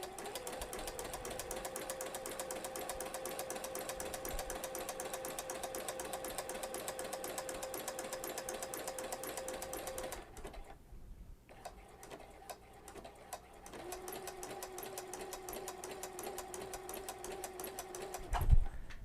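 A sewing machine runs a regular zigzag stitch on fabric to make an eyelet-like flower pattern, whirring steadily and close, with a short pause partway through before it resumes at the same even pace.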